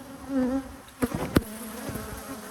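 Honeybees buzz around an opened hive in late May with a low, steady drone. A couple of sharp knocks and handling sounds cut through partway.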